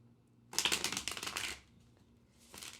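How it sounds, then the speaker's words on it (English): A short burst of tarot card shuffling, crisp riffling for about a second, followed by a brief quieter flutter of cards a moment later. "Excuse my shuffling."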